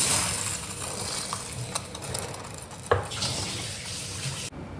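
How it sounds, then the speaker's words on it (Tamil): Water pours steadily from a vessel into a pot of Chettinad tiffin sambar, a continuous splashing, gurgling stream heard close and alone. "கொஞ்சம் தண்ணி ஊற்றிக்கலாம்."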